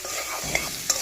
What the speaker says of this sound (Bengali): ছোলাটা ভাজবো